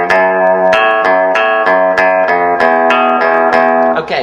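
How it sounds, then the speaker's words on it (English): Guitar picked with a plectrum close to the bridge gives a bright, twangy tone, with a steady run of evenly spaced strummed or picked notes, loud and alone. "So I'm creating the twangy sound by being right down here by the bridge."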